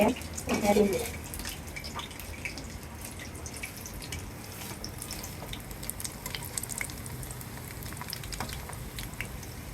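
Dough pieces fry in hot oil in a wok, giving a soft, steady sizzle with faint crackles and a brief clatter of stirring at the start, under quiet kitchen background.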